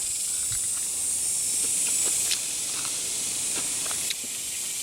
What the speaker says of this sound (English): this is my first attempt at frying with a Trangia stove